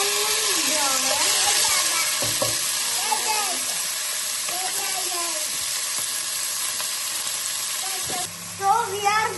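Chicken pieces sizzle and crackle in a hot pan for creamy pasta, with a continuous close frying hiss and a few stirring knocks near the end, while a voice talks over it.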